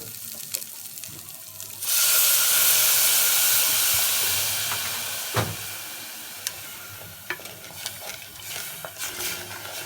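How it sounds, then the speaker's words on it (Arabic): Rice sizzling and frying in a pot, with a loud hiss that bursts in suddenly, then settles into a steady crackle with scattered pops and light clinks. "تمام انا بقى دلوقتي احمر الرز الاول"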